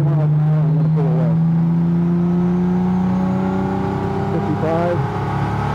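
A custom 2009 Cadillac CTS-V race car with manual clutch and turbo accelerates, its engine note holding a steady drone and climbing gradually in pitch, loud and close, with someone talking over it.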